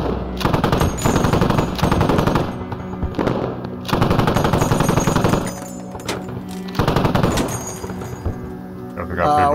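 Rapid automatic gunfire in the military shooter game Squad during a 50-versus-50 vehicle battle: loud, repeated bursts of machine-gun fire with short gaps between volleys, over a constant backdrop of battle noise and faint radio-like chatter.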